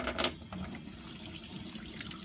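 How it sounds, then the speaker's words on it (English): Hot tap water runs steadily over the liquid pump of a soap dispenser as it is rinsed through, a continuous close splashing flow with a slightly louder burst at the start. "you need to rinse the pump through with some hot water"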